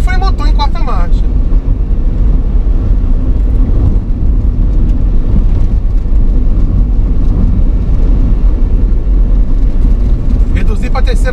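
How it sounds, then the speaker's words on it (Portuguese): A car engine-brakes in fourth gear while descending a mountain road, a steady low drone with road and wind noise throughout, and a person talks over it. "E tô só no freio motor em quarta marcha"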